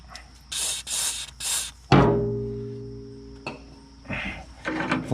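Justice Brothers lubricant sprayed onto threads while repairing a John Deere Model 15 flail chopper, three short hissing bursts followed by a metallic clank that rings out, then softer handling noises.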